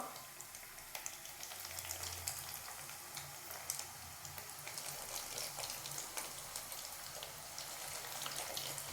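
Potato nuggets sizzle in hot oil with a steady, crackling hiss that runs close and constant throughout, with no voices.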